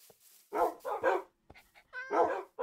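Several dogs barking in the Minecraft video game, a village farm setting, with repeated loud bursts of woofs and yips in quick succession, close by and without talk.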